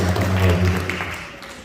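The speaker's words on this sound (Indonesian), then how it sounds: "Tepuk tangan dong buat Tuhan kita" A church congregation at a Sunday worship service gives a short burst of applause, a dense wash of clapping that fades out quickly.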